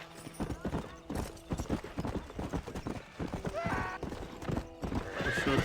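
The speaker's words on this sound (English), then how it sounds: "eu tenho um cavalo agora" Horse hooves clip-clopping in the Red Dead Redemption video game, a steady close galloping rhythm with occasional whinnies and game sounds mixed in.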